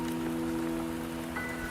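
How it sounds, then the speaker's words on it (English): Rain falling in a video game, a steady even hiss of drops spread across the whole moment, with a faint constant hum underneath and no voices. "Don't worry, the rain won't last much longer."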